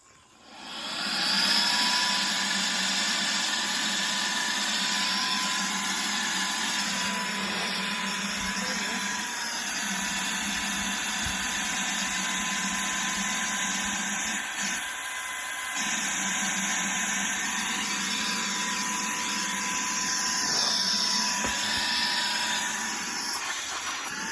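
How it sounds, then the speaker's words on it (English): A Saker vacuum cleaner running in blower mode inflates a large pool float, giving a loud, steady motor whine with an airy rush. It starts abruptly and runs unbroken, with small shifts in pitch, and no one talks over it. "So I'm just going to put my blower nozzle down in there, turn him on."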